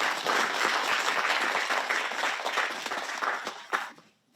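Audience applause fills a hall at an artists' fair-finance vision ceremony, welcoming a guitarist to the stage; dense steady clapping from a crowd that fades out in the final half second.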